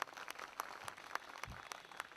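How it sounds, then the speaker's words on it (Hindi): Applause from an audience at a political meeting of a minority wing, a patter of claps at fairly low level, with broadband hand strikes spread across the clip and no talk over it. "एक बार जोरदार तालियां दिलीप भाई के लिए।"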